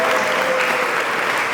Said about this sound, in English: You should clap for this boy.